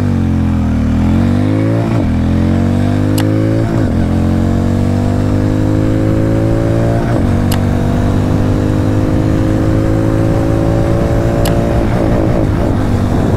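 Hero Mavrick 440 motorcycle accelerating hard through its gears on a top-speed run, the engine note climbing steadily with a brief dip at each shift, loud and continuous throughout with no talking.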